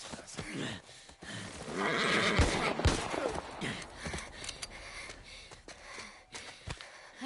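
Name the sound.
horse neighing in a video game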